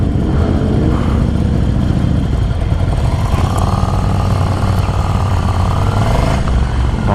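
A group of Harley-Davidson motorcycles riding out together in Jeddah, a dense continuous engine rumble with loud low drone and passing revs, steady and close throughout.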